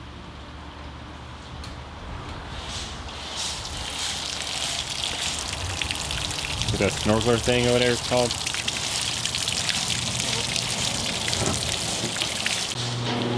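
Continuous rushing water spraying and splashing from a hose on a boat, steady throughout, with someone speaking briefly over it partway through.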